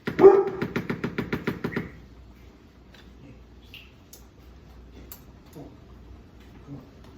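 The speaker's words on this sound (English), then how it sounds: "my dog is probably barking at a delivery guy right now" A dog barks fast and repeatedly nearby at a delivery person, about eight sharp barks in quick succession, then it goes quiet apart from faint background noise.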